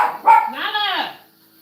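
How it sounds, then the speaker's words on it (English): A dog barks in one short burst up close, a sharp yelp rising into a longer, wavering bark, while a person talks over it. "Stop barking."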